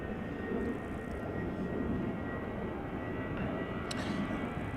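An eight-year-old all-white SmartLynx airliner flying for SAS departs Amsterdam Schiphol for Stockholm, a low, rumbling engine roar at a moderate distance, steady throughout with a faint brief high chirp near the end.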